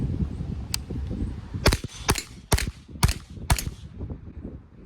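A Smith & Wesson FPC 9mm folding pistol carbine fires one shot, then five sharp, loud cracks in quick succession, roughly half a second apart, as the shooter moves between targets.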